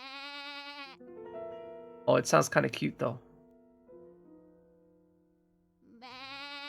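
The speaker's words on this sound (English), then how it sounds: "As the unlucky girl stared at the black goat, it let out a desperate cry." A black goat bleats in a short burst of wavering, nasal cries between stretches of sustained tonal music, with a person speaking over part of it.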